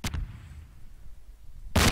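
A pair of gunshots in Garry's Mod, one sharp report at the start and another near the end, separated by a quiet gap.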